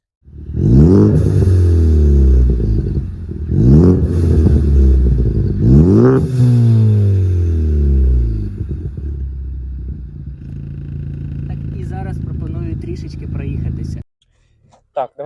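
A Ford Focus ST engine with an MRB exhaust revs hard through three rising sweeps, loud and close, then settles into a steady rumbling drone.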